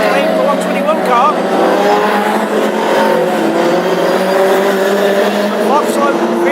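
A classic hot rod race car engine roaring at full throttle during a heat on an oval track in Birmingham, loud and continuous, with other cars audible alongside and commentary running over the noise.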